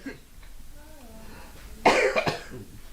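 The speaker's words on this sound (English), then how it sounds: "That's a different kind of cough." A person coughs near the end in two sharp bursts, close and moderately loud, after a quieter stretch of soft background voices.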